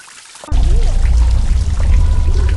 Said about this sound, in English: Oh no, water!